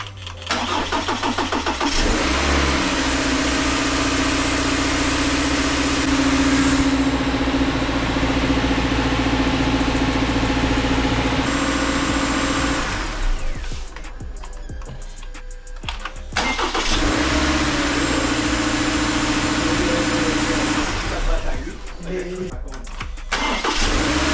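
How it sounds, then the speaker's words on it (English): A 2020 Subaru Forester engine cranks and fires after a starter replacement, then settles into a steady idle, loud and close, with a brief dip midway before the idle resumes. Faint voices are heard. "we're gonna give it the start after the starter, see how it sounds, how it starts"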